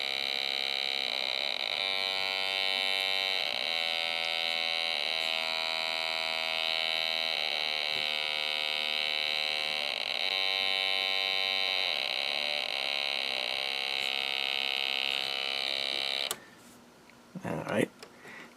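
Steady electronic tone from a Snap Circuits oscillator circuit with added capacitance, held at a lower pitch with a faint pulsing, running continuously for about sixteen seconds before a burst of handling noise.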